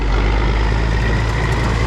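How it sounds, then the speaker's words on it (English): A truck with a Cat 3406B diesel engine idles nearby, a steady, loud low rumble with no break for the full two seconds and nothing else over it. "I always forget how mean that truck sounds."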